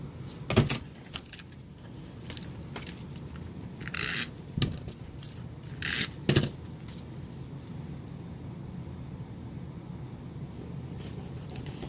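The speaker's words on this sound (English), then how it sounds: "I just want to cut a few more sheets of lined paper to bring some of that into the card." Scissors snip through sheets of lined paper for a card, a few sharp separate cuts with soft rustling and handling noise between them, close and quiet.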